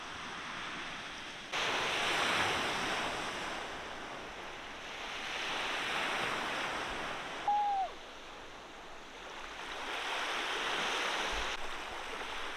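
Waves surge and wash at a small cove beach in southern France or Spain, rising and falling in slow swells of broad surf noise heard close by, with no talking.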